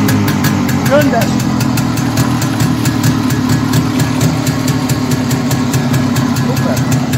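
A refurbished car engine from the 1980s idles steadily and loudly close by, a constant mid-pitched rumble with a faint voice briefly audible over it.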